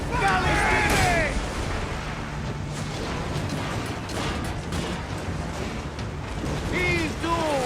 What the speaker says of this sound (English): Firing! Brace! We're under fire!